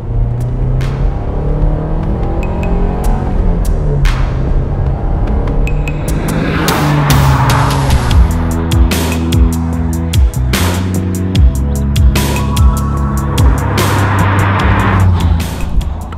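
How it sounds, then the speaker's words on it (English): A 1985 Porsche 944 sports car accelerates hard on Welsh country roads, the engine note climbing repeatedly through the gears with loud rising revs and brief shift breaks, close up inside the car. "we're going to put our foot down now and just see what this glorious old car can do"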